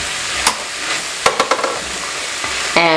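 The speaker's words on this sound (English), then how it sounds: "Now you want to stir those in." Drained, rinsed kidney beans being stirred into a one-pot chili mac, with a loud, close sizzle and several quick spoon scrapes and clatters against the pot, then a brief squeaky rub at the end.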